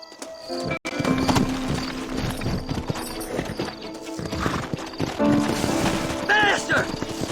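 Horses galloping in the video game Red Dead Redemption, rapid clip-clop hoofbeats running throughout with an occasional whinny, under voices talking and background game audio.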